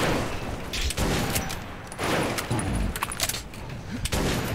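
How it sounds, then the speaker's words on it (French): Shotgun blasts in the first-person shooter Metro 2033, firing repeatedly at roughly one-second intervals, each a loud booming burst with a short decay, amid dense game noise and clatter. "Ah oui, shotgun très sympa."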